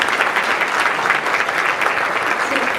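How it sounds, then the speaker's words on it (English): Steady, dense applause from a large audience at a Hispanic chambers of commerce convention luncheon, loud and sustained throughout with no break. "So please, another round of applause for all of them."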